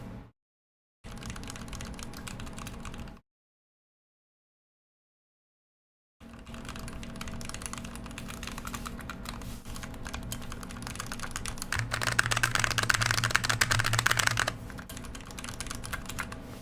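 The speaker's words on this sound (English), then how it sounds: "let you guys actually hear what this keypad sounds like" Typing on a KBDpad keypad built with Amber Alps Harvest switches: a steady run of close, crisp key clicks in two bursts separated by silence, growing louder and denser toward the end.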